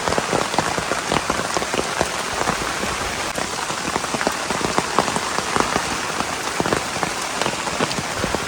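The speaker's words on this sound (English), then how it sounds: "Rain's coming down" Steady rain patters down on surfaces nearby in the Appalachian woods of West Virginia, a dense, continuous hiss of drops with no voices.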